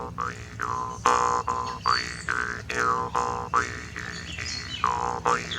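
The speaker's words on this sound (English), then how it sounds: "this is called a jaw harp, and it sounds like this" A jaw harp twangs in a bouncy rhythm, each pluck a springy, buzzing boing with a warbling vowel-like shift, close and clear with no talking.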